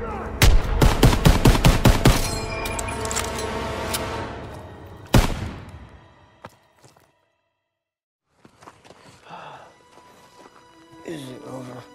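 Gunfire in the video game Call of Duty: WW2: a rapid, loud burst of shots, then a single sharp blast after a pause, followed by quieter rumbling and indistinct game sounds.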